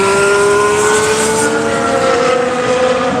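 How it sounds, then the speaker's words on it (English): Formula 1 hybrid cars in Barcelona pre-season testing make a steady, loud engine drone with sustained tonal whine and no break or speech. "The cars, they sound a tiny bit meatier."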